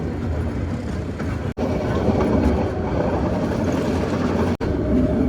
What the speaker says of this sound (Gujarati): ટ્રેન તમે જોઈ શકો ધીરે ધીરે ધીરે ધીરે હાલે છે